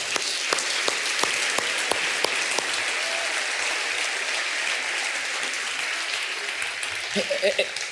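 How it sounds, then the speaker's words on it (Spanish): Church congregation applauds the Lord during a pastor's sermon, a run of sharp claps at first settling into broad continuous clapping, with a brief voice rising near the end. "Dele un aplauso al Señor"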